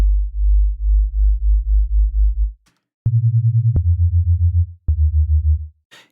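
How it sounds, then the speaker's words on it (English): A loud, low sine wave from the Ableton Operator synthesizer is detuned to a beating, wobbling bass tone. It pulses steadily, then after a pause comes back higher and then lower in short repeated segments, like a jungle bassline. "So now we just have quite a loud sine wave."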